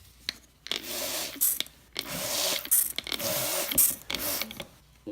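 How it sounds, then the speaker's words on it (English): Bursts of spray hiss as patina solution is sprayed into the bottom of a metal piece indoors, close and fairly quiet, coming in several short pulses separated by brief pauses and faint handling clicks. "So we're going to spray it into the bottom."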